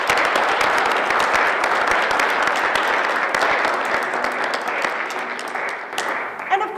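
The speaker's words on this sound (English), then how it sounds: "So can we give Dean Mann a huge round of applause for everything she does for us?" Audience applause at a virtual concert for South Dakota Mines, a steady dense clapping that holds at full strength for several seconds and then starts to thin out.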